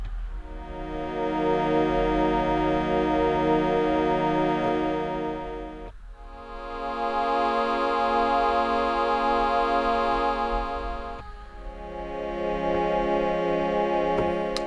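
A Korg Minilogue XD-style vector synthesis oscillator plays dry, with no modulation, reverb or delay, as three sustained, harmonically rich notes of about five seconds each, steady and loud with brief dips between them.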